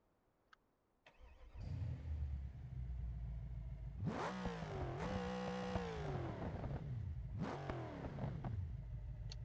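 An all-wheel-drive SUV in the BeamNG driving game starts and revs, the engine settling into a steady idle and then climbing through several loud, rising acceleration sweeps with gear-change dips between them.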